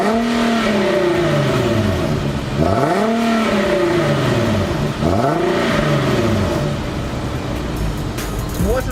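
A 2015 Infiniti Q50 engine accelerating on the road, loud cabin drone rising in pitch through several gear changes, each upshift dropping the tone before it climbs again.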